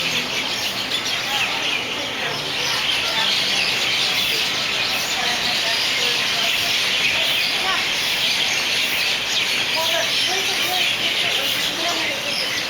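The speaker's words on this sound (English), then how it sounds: "Big ficus tree right there, full of birds." Dense flock of birds chattering and chirping in a big ficus tree in the heart of Waikiki, a steady, busy chorus of overlapping calls that runs unbroken and fairly loud throughout.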